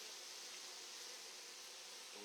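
A honeybee swarm settled on a tree trunk along the Moselle produces a faint, steady hiss-like buzz that runs continuously and quietly throughout, with no voices present.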